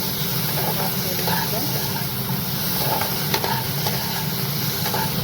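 Tomatoes fry in a small amount of oil with nigella seeds in a kadai, giving a steady close sizzle and hiss with soft stirring scrapes and a low voice faintly beneath.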